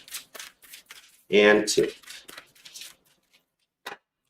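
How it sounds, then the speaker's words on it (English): A deck of tarot cards riffled in two quick shuffles, a brief crisp burst of fluttering card noise, close up, with a voice talking before and after. "All right, two shuffles."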